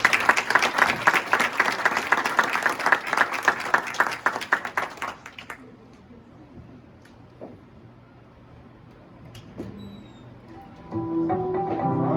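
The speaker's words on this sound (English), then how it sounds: "So let's give Anthony a round of applause" An audience at a karate school belt promotion gives a dense round of applause for about five seconds, then it dies away to a quiet room with scattered small knocks and shuffles before a rustle of movement.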